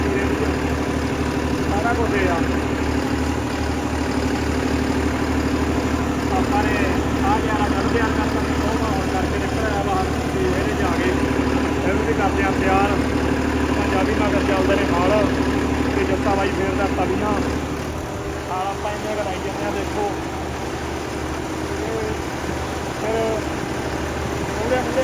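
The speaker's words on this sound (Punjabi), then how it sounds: "ਹਲ ਫੇਰ ਕੇ ਮਗਰ ਟਰੈਕਟਰ ਸੌਖਾ ਚੱਲੀ ਜਾਂਦਾ" A tractor runs in a maize field after rain, its engine giving a steady low rumble and chug close by, dropping slightly in level toward the end, with someone talking over it.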